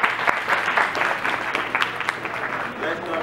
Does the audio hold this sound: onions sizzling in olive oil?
no